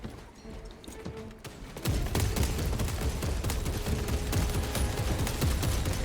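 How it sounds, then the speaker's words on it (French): Heavy bolter fire in the co-op video game Space Marine 2 cuts in as dense, rapid bursts of heavy automatic gunfire, loud and continuous after a quieter start with scattered game effects. "Oh, le bolter lourd, effectivement,"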